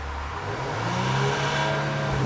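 A 2023 Maserati Levante SUV engine revs up loudly and close by, its rising growl climbing in pitch and holding strong as the accelerator is pressed.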